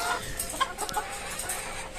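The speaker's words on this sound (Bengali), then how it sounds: "মোরগ মুরগি, এছাড়া এরকম নাই।" Free-range hill chickens, hens and a rooster, cluck and squawk in short, scattered bursts on a small farm, fairly near and moderately loud with a quiet background.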